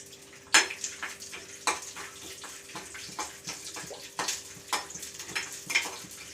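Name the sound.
mustard seeds and chana dal crackling in hot oil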